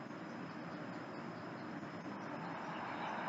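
Steady, low-level train station ambience of rumbling trains and diffuse background noise, a constant wash with no clear voices.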